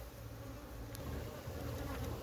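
A dense, steady hum of many Africanized honey bees buzzing nearby, a continuous droning swarm with no voices, during a wild colony capture in Guyana.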